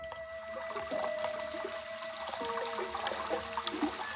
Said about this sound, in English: That's the way it sounded when it rained, because the room was just below gutter level, and the rainwater rushed